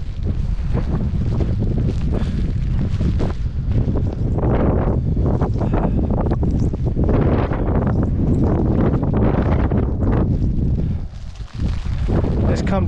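Strong, relentless wind roaring across the microphone on a hilltop at night, heavy low buffeting for the whole stretch with a brief dip near the end.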